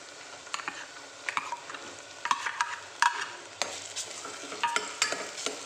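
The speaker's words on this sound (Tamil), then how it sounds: "மசாலையும் போட்டு 1 நிமிஷம் நல்லா வதக்கி விட்டுருவோம்" Ground masala sizzles and fries in a pan of softened onions for a parotta salna, with a spoon scraping and stirring in irregular bursts over a low, steady hiss, close and fairly quiet.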